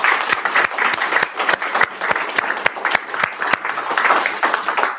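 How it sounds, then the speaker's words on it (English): A church congregation gives a round of applause, a lively crowd clapping with distinct individual claps popping out of the steady patter, loud and close throughout. "Let's all give them a round of applause"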